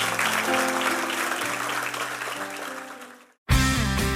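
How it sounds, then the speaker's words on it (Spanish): Dense applause from a church congregation swells over sustained music, tapers off and cuts to silence, then the music jumps back in loudly. "Dale un aplauso al Señor."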